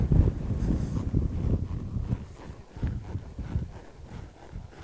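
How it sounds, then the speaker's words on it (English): Steady wind buffeting a microphone, low rumbling gusts that rise and fall throughout with no voices. "I'd hate for me to lose my hat on this windy day."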